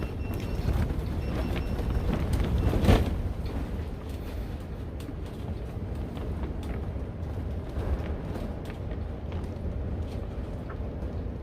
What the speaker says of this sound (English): You guys can hear the wind out there if I don't have the alarm going off.